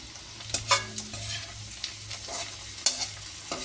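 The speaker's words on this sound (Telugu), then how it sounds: "అటుకులకి మస్ట్ డీప్ ఫ్రైయే చేయాలి" Flattened rice (poha) deep-frying in hot oil for a homemade mixture snack, a steady close sizzle broken by a few sharp stirring clinks and scrapes, with no talking.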